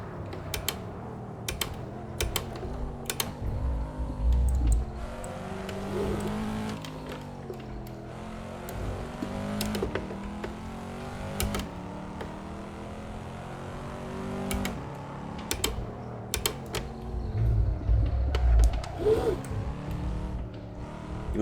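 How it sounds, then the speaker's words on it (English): A race car engine with no downforce, heard as the driver brakes, its pitch falling and rising through repeated downshifts, with mechanical clicks and creaks over about twenty seconds and no talking. "Now listen to the engine as I start to brake."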